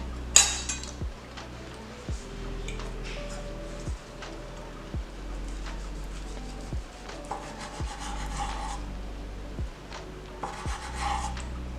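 A sharp kitchen knife saws back and forth through a homemade sushi roll wrapped in seaweed, making a steady series of soft, rasping strokes about once a second. A few faint clicks come through, and no one speaks.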